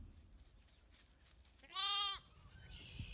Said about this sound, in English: I'm just checking on all of our ewes this morning